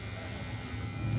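A small electric hair clipper buzzes steadily and close during a military-style haircut, one continuous hum with no pauses and no talk.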